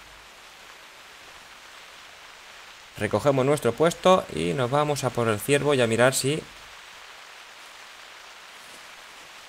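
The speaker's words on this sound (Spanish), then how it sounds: "Encima se nos pone a llover" Soft, steady rain patters in The Hunter Classic hunting video game, a faint constant hiss that continues under a man's speech in the middle.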